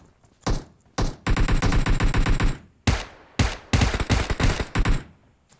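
Bursts of automatic gunfire from a PUBG Mobile squad match on the Vikendi map, loud and close, firing in several sustained volleys separated by short pauses with no talk over them.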